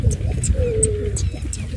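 A set of about 150 to 200 pigeons takes off again after release in an outdoor kabootar bazi loft. Repeated soft wing flutters and a brief call come through over low background noise.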